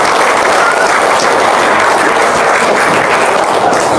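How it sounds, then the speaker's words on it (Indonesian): Crowd applause fills a gathering at an Indonesian religious talk, a steady dense wash of clapping that holds loud and even throughout with no voices standing out. "Tepuk tangan dong."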